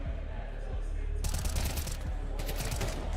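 Rapid bursts of automatic video game gunfire rattle continuously over a dense, noisy background, loud and sustained with short clustered volleys.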